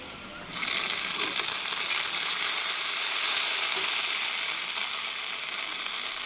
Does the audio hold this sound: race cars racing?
no